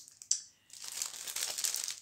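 Plain paper C6 envelopes rustle and crinkle as they are handled, a brief crackle followed by a longer stretch of soft, close paper crumpling.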